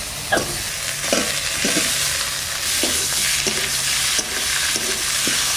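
Potatoes tossed into chilli and cumin frying in a pan for a village-style katla fish curry, a loud close sizzle with rhythmic scraping stirs roughly every half second, no talk.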